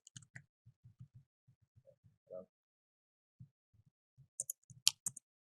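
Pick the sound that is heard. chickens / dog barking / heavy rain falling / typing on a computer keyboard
typing on a computer keyboard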